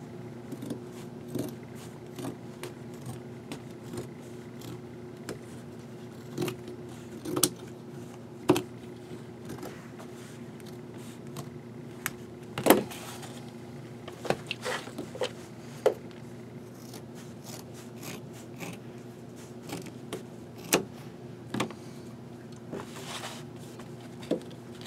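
Scissors trimming the uneven edges of a denim traveler's notebook cover, making scattered crisp snips and cloth rustles at close range over a quiet background, no talk.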